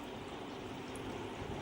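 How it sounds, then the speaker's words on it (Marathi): Water is poured into milk in a bowl while making falooda from a ready premix packet, giving a brief, steady trickling splash at moderate level with no voices. "मी आता याच्यामध्ये पाणी ॲड करणार आहे."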